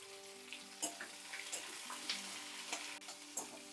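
Chopped onions, ginger and garlic sizzle in a hot pan, a soft steady frying crackle broken by several sharp stirring clicks and scrapes, with no one talking.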